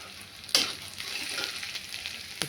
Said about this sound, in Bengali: পেঁয়াজ দিয়ে নাড়ছি এটাকে।